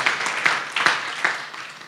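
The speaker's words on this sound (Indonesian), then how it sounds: "tepuk tangan bagi Allah kita." A congregation at a leaders' marriage camp claps along in a roughly steady rhythm, several distinct beats over a brief, busy room wash.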